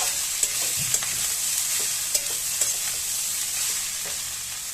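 Rice is stir-fried in a pan, with a continuous sizzle broken by several sharp scraping strokes of a spatula and no talking.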